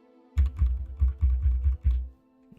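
Quick, close keystrokes on a computer keyboard, about eight clicky presses in a short run with a small pause near the end, over a faint steady hum.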